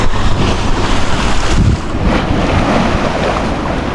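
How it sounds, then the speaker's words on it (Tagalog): Rough sea with a strong current churns and crashes along the shore while steady wind buffets the microphone, a loud continuous wash of surf with no talk. "hindi maganda yung agos ng dagat ayan o"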